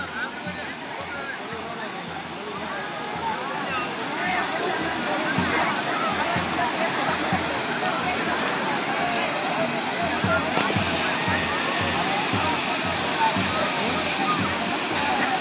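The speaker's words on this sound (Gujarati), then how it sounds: "પાણીનો અવાજ એટલો આવે" Loud rushing water at a river or lake during a Dasha Maa idol immersion, a steady roar filling the whole clip, with crowd noise and voices mixed underneath.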